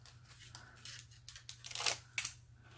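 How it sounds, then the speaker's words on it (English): Scissors snip through paper for a Valentine's Day pocket letter craft, several quick close cuts in a brisk run with a sharper final snip, over quiet room hum. "I will have to cut this one."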